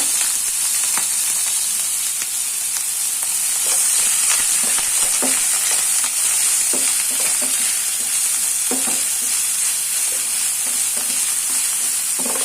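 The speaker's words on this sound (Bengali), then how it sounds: "হালকা বাদামি আটা হওয়ার আগ পর্যন্ত আমি হালকা ভেজে নিব" Chopped onions fry in hot oil with a continuous bright sizzle, while a utensil stirs and scrapes the pan in irregular clinks and taps throughout.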